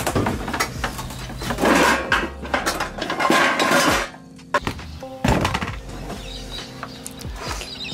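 Metal tongs and cookware clatter and clink while sausages cook at an outdoor campsite, a string of close, loud knocks and scrapes with a brief quieter gap partway through and no talking over them.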